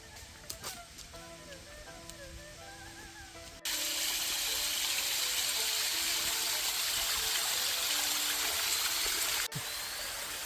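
A tranquil river in Malaysia rushes steadily as a loud, continuous wash of flowing water that swells after a quieter opening, with faint bird calls and scattered sounds audible early on.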